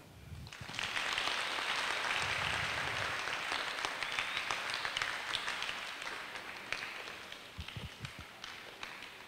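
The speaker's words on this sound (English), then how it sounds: "we wish to give a hearty round of applause of appreciation as we welcome our school's principal" A burst of school audience applause swells quickly and holds, then thins out into scattered claps toward the end.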